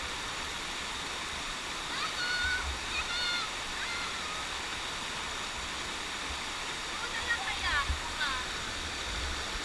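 Strong river current in the Philippines, rushing water as a steady broad roar close by, with faint voices over it.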